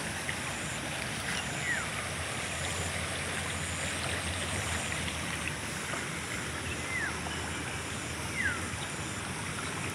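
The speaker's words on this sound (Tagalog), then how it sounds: "Baha kay siya, baha." Floodwater rushes through a small creek in a continuous, broad wash of turbulent flow, steady and fairly close, with faint birdcalls chirping now and then over the water.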